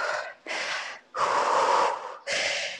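Heavy, rhythmic breathing during a short rest in a home HIIT workout: four strong gasping breaths, close and loud, with brief pauses between them and no talk.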